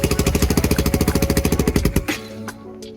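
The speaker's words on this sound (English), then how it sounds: "Got to choke it a little bit while I start it." A Lifan KP Mini 300 motorcycle engine cranking with the choke on, a fast, loud, regular chugging pulse for about two seconds before it catches briefly and drops to a faint idle rumble.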